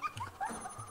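Cartoonish dog yips and whimpers from the dog character in the Rayman 2 video game, a few short high-pitched bursts at moderate volume over game music.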